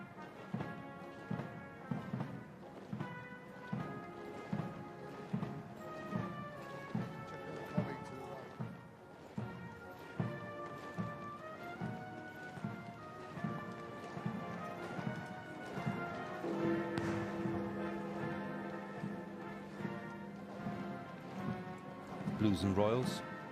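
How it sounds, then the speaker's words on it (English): Steady clip-clop of the Blues and Royals' horses and the drum horse in a slow procession through London toward Wellington Arch at the Queen's state funeral, rhythmic hoofbeats under band music and brass, with a voice speaking over them. "followed by the drum horse and the state trumpeter, as they make their way gradually towards Wellington Arch and Hyde Park Corner"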